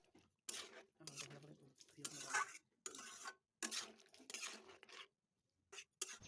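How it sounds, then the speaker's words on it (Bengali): Fried chicken is stirred into sauce in a cooking pan, giving bursts of scraping and clattering utensil-on-pan strokes with light sizzling, close and intermittent with short quiet gaps. "চিকেনটা দেওয়ার পর ভালো করে সসের সাথে আমি নাড়াচাড়া করে চিকেনটাকে মিশিয়ে নেব।"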